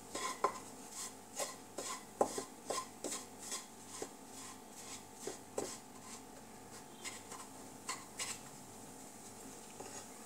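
Wheat flour halwa being stirred with a spoon in a pan over a low flame, giving repeated scraping strokes and clinks in an uneven rhythm, close and moderately loud without speech.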